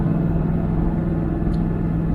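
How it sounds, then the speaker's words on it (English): A loud, steady truck engine rumble with a constant low hum, like the truck driving under strain on hilly road, continuous throughout without speech. "don't mind my truck getting loud."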